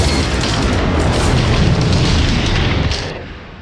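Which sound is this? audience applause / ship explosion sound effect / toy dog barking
ship explosion sound effect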